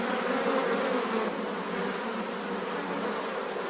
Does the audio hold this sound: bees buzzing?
yes